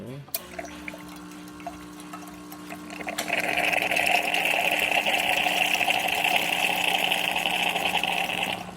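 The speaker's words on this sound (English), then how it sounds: "And let's run a bit of hot water." A Nuova Simonelli Musica espresso machine's pump hums, then hot water streams out with a steady rushing hiss that continues evenly for several seconds.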